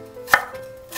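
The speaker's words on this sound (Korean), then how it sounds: "양배추도 큼직하게 썰어 주세요." Knife chopping cabbage into large pieces on a board for seafood jjamppong, two crisp close cuts about half a second apart, alone and quiet.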